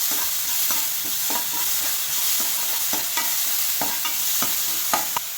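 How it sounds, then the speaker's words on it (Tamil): Coriander paste sautéed in oil for coriander rice, a continuous frying sizzle broken by repeated scraping strokes of a spoon around the pan, close and fairly loud with no voices. "எண்ணெயிலே சேர்த்து நல்லா வதக்கிக்கலாம்"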